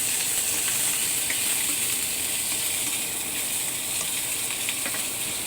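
Leftover fish and tofu frying in a pan, a steady close sizzle and crackle that holds evenly throughout with faint clinks of stirring and no voices.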